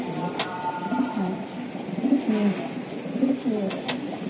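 Racer pigeons coo repeatedly at a pigeon farm, their soft rolling calls rising and falling in a steady rhythm close by, with a few sharp clicks and faint background clatter.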